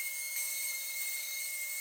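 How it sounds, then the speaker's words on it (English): Orbital sander scuff-sanding a piece of furniture with 220-grit paper, sped up into a steady, high-pitched continuous whine with a sharp tonal squeal, close and unbroken throughout. "My sander sounds like a teenage girl screaming with these sped up clips."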